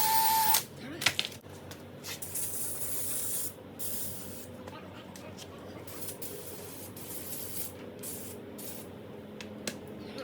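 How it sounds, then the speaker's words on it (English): An aerosol spray paint can hisses in several close bursts onto a Pontiac G8's brake calipers, the longest near the start, with a person speaking quietly in between. "then we'll spray paint"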